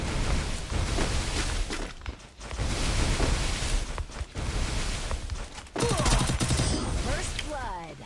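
Rapid bursts of UMP submachine gun fire from the Free Fire mobile battle game, dense automatic shots in several stretches with brief pauses, plus sharper impact and shatter sounds near the end.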